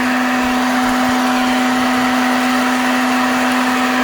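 A home coffee roaster tumbling beans, a loud steady electric whir with an even mechanical hum and a constant airy rush, close and unbroken, with no voices.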